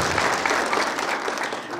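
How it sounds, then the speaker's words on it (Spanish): Applause for nurses at a hospital-practice blessing ceremony, a dense, steady clapping of a crowd filling the whole short stretch at moderate loudness. "Los aplausos para ustedes."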